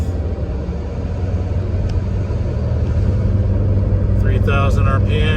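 Mitsubishi Lancer Evolution MR with the SST transmission cruising in 5th gear at 3,000 RPM: a steady, loud in-cabin engine and road drone, with some faint higher clatter near the end.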